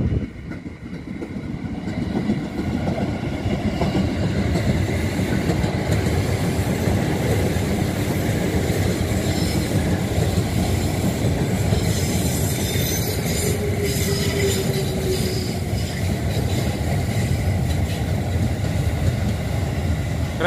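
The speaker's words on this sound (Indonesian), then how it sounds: "Keretanya pelan, nunggu sinyal masuk." A KRL commuter electric train rolls slowly past through rice fields, its steady rumble and wheel noise loud and continuous for the whole stretch, with faint squeals and rail clatter, no voices.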